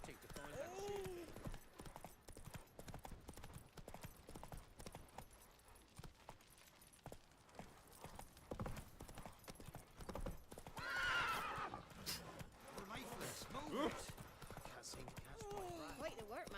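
Horse hooves clip-clop steadily through the whole stretch of a Witcher 3 video game scene, with a whinny or neigh rising midway, a faint jangle of tack, and spoken dialogue over the hoofbeats.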